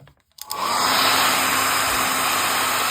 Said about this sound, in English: So I am just going to give it a very quick blast with the hairdryer.